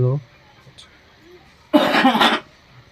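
A single harsh cough or throat-clearing burst from a man ill with tuberculosis who has chest pain, coming after a brief voice and a quiet pause.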